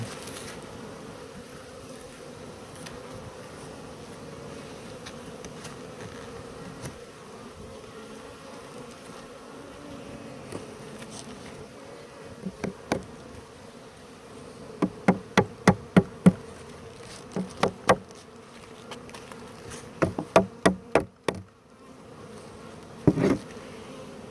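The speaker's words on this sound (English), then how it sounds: "So there's the yellow jacket right there." A yellow jacket wasp buzzes near a beehive with a faint, steady drone, joined later by a cluster of sharp, evenly spaced knocks and taps close by.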